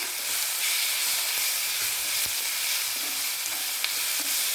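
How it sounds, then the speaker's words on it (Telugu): Ginger garlic paste frying with tomatoes in a hot pan gives a loud, dense, continuous sizzle close up, with faint stirring scrapes underneath. "ఇందులో మనం అల్లం వెల్లుల్లి పేస్ట్ వేసుకుందామండి"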